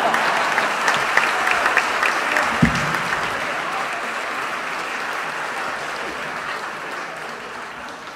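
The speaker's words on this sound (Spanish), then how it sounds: "Fuertes aplausos para el compa Eli" Loud, sustained applause fills a theatre audience at an oral storytelling show in Cartagena, a thick continuous clatter of many hands that slowly eases in intensity, with a single louder thump partway through.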